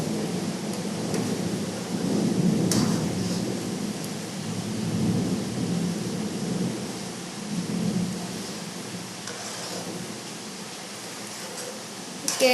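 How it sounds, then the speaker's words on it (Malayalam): Rain falls steadily outside while low thunder rumbles roll in and fade at intervals, with a sharp crackle near the end. "ഇവിടെ പുറത്ത് നല്ല മഴയും ഇടിയും മിന്നലും ഒക്കെയാണ്."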